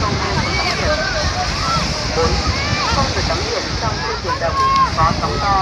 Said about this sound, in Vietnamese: gió lớn.